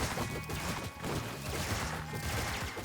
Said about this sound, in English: Lots of gunshots, lots of fisticuffs.